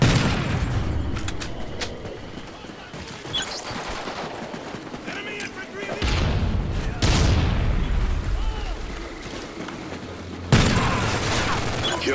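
Gunfire from a sniper rifle in Call of Duty's Onslaught DLC, with sharp booming shots and bursts of battle noise over a dense, loud game soundscape, and a player talking at points.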